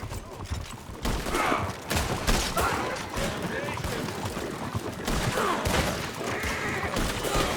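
Rapid bursts of gunfire in the video game Red Dead Redemption 2, loud, dense volleys of shots and thumps running through the whole stretch, with voices shouting over the shooting.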